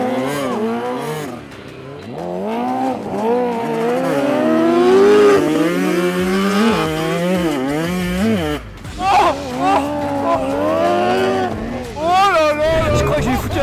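A Kawasaki H2R motorcycle revs hard on a motocross track, its engine whining up and down in pitch through repeated accelerations, loud and close, with excited voices talking over it.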